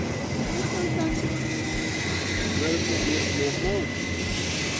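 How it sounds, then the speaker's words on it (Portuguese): A steady low rumble of a short freight train rolling past in Paranapiacaba, Brazil, fills the scene, with faint clacking of wheels and a high tonal whine, continuous throughout. "a gente até conseguiu ver um trem de carga passando por ali."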